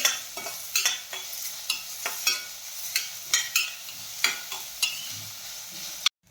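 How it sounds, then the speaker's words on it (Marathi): Finely chopped onion sautéing in a pan for a veg Kolhapuri, with a steady sizzle and regular scraping stirs of a spatula, close and fairly loud, ending with a sharp knock. "कांदा छान सोने रंग येईपर्यंत आपल्याला परतून घ्यायचा आहे"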